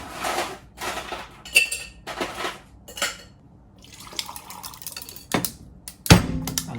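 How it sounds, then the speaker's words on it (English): Ice scooped and dropped for a cocktail: a series of close clinks and clattering knocks of cubes against metal and glass, ending in a louder rattle as the ice lands. "I'm gonna get some ice."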